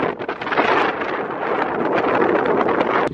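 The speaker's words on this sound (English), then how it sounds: "It is really windy up here" Strong wind gusts hard across a hilltop after a hike, roaring and buffeting close against the microphone in a continuous, rough rush.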